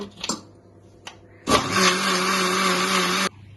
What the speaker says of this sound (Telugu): వాటర్ పోసుకుంటూ జారుగా మిక్సీ పట్టుకోవాలన్నమాట.